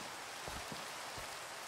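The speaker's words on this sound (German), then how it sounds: "Ist auch echt schön mit den Regen hier so." Rain falling in Minecraft with shaders, a steady dense hiss of rainfall with a few soft low thumps, even and moderately faint throughout.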